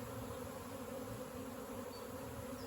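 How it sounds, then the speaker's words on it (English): A honeybee swarm buzzing near a wildflower patch in long grass, a dense, steady, faint hum of many bees throughout, with no one talking. "I heard a lot of bee commotion, and it looks like they just swarmed maybe."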